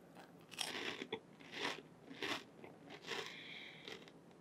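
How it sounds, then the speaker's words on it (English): Crunchy bites into a cracker dipped in cream cheese, several sharp close-up crunches followed by softer chewing, with no talk over them. "You take a cracker. You dip the cracker."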